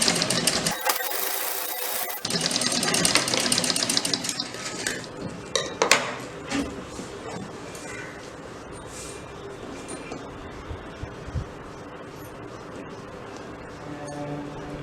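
A sewing machine runs in fast bursts of rattling stitches, loudest at the start, while piping cloth is folded and stitched along the bottom edge of a baby frock. Lighter machine clatter and handling noise follow, with no talk.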